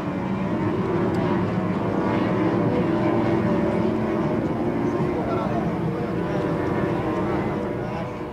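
A damaged racing powerboat's engine drones in a steady, loud roar during a speedboat race on open water, holding an even pitch throughout with a faint wash of noise around it.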